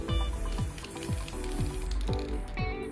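Spray paint hissing through a small Frida Kahlo stencil, darker color laid over a mid-tone layer; a steady close hiss broken by repeated short bursts about every half second.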